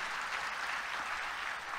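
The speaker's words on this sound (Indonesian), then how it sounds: "sama-sama kita bantu tepuk tangan." Steady dense clapping from a church congregation, a continuous broadband wash of many hands at moderate distance without a clear rhythm, and no voices standing out above it.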